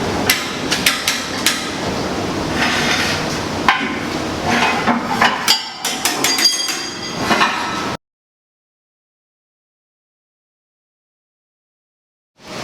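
A bearing pressed onto its seat by hammering on a pipe, delivering a run of sharp, loud metallic strikes in irregular bursts that stop abruptly, followed by silence.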